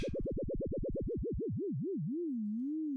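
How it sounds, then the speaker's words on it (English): A pure synthesizer tone with fast frequency modulation wobbles rapidly up and down in pitch, the vibrato gradually slowing until it becomes a lazy, gentle warble. "you're hearing frequency modulation."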